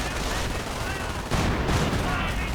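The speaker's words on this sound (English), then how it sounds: "And nice artillery strike right there on the German infantry" Artillery shells striking German infantry in a cemetery during a World War II real-time strategy match, heard as dense, continuous battle noise with heavy low rumble and a louder surge of impacts midway, with faint voices mixed in.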